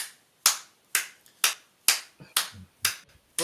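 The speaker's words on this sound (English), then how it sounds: "I want you to clap for yourself" Seven slow, evenly spaced hand claps from a single person, sharp and close with brief decays, heard alone without talk.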